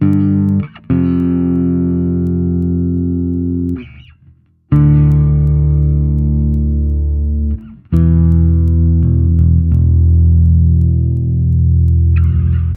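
Clean, punchy bass guitar through a Line 6 Helix playing sustained double stops, two notes ringing together in a few long held phrases with brief gaps between them.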